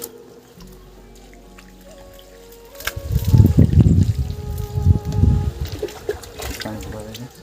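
Water from a bucket thrown against the wall of a small new house, heard as a few loud splashing bursts after a quiet start, with a faint voice in the background.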